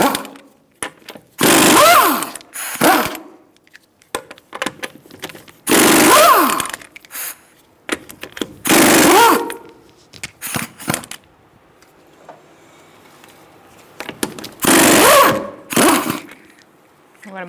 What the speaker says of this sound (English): I'm going to use a 19mm socket to take the wheel off.